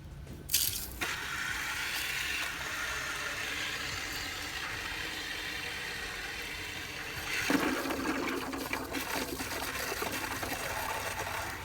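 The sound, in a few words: water running from a hose into a Rinse Kit Pod shower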